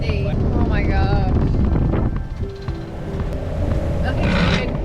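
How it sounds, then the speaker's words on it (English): Strong wind buffets the microphone on a 50ft sailboat in a steady roar, with water and boat noise underneath and a brief voice partway through. "It is very windy."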